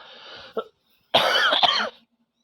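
Two coughs: a short bark followed, after a brief pause, by a longer harsh coughing fit up close.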